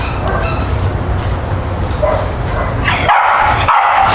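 A dog barks and yips repeatedly at a fence line, loud and close, with whimpering notes mixed in and no talking.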